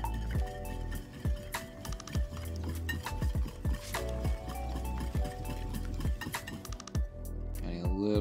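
Eggs whisked briskly in a bowl for an egg wash, a steady run of close metallic clinks and taps from the whisk against the bowl, continuing without a break.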